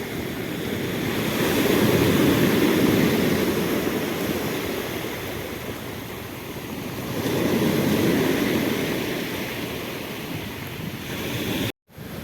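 Surf rolls onto a winter pebble-and-sand beach at Eshera, Abkhazia, in two broad swelling surges that rise and recede over a constant loud wash, with some wind rumble and a brief dropout at the end.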